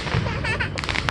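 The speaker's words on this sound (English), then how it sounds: "Oh, it's one of those flashing fireworks" A fountain firework at an outdoor Fourth of July display, giving a dense crackling hiss with a few sharp pops close by, while people's voices overlap it.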